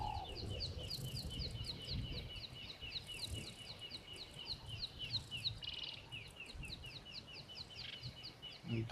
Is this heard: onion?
no